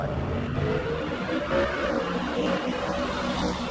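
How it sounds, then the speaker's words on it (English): Muscle cars rev and rumble at a drag strip with fans gathered, a steady loud engine roar with whirring tones that holds throughout, no talking. "a whole bunch of fans congregate at this drag strip to enjoy the sights, the smells, the sounds of these muscle cars"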